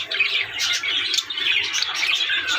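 Pet parrots, including a parblue pair, chirp and tweet steadily in a busy, continuous flock chatter, fairly close, with no talking over them.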